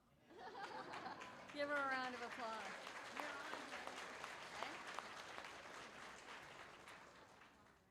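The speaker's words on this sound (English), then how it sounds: "Give her a round of applause." An audience at a state awards ceremony for a student invention competition gives a round of applause. Moderate, steady clapping runs throughout, with a voice, some chatter and light laughter rising briefly early on, then tapering toward the end.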